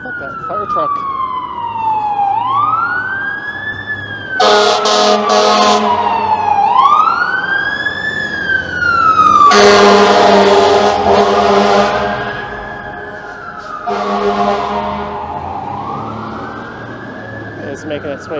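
Fire truck siren on a downtown Toronto street in the Financial District, a loud wailing siren rising and falling in repeated sweeps with bursts of air horn, as traffic rumbles and a voice talks nearby.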